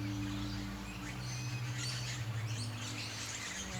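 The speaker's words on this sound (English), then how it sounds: "You might hear some birds." Birds chirp and tweet in the woods around an outdoor yoga session, several small calls scattered over a steady low hum, moderately near and clear.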